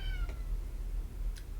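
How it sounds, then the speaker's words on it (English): A cat gives two short, faint meows indoors, one near the start and one just before the end, above a low steady background hum. "it's a cat"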